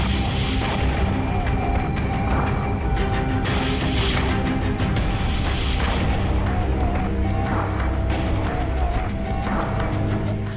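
An ambush explosion hitting an Israeli tank near bushes: loud, heavy booming and rumbling that fills the whole stretch, with a sharper burst partway through.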